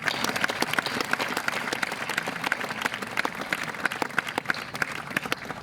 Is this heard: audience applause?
yes